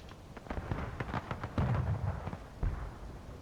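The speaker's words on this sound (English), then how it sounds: "Looks like they're playing a little bit of crashing cannons on the battery here." Cannon artillery fire in a Civil War video game, a series of booming shots and crackling reports with a few heavier blasts, irregularly spaced and fairly loud.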